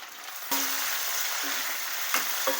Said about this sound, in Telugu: దీంట్లో నేను 2 పెద్ద సైజు టమాటాలు తీసుకున్నాను, సన్నగా తరిగి. దీన్ని కూడా వేపుకోవాలండి.